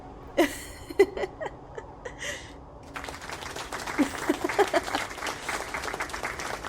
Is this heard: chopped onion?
no